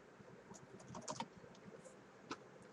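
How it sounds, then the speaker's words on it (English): Quiet typing on a computer keyboard, a few faint, close key taps and clacks in an irregular rhythm with no talking. "we type in hello"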